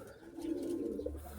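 A Bandangan pigeon coos in a low, steady, continuous murmur, close and moderately loud, with no talking over it.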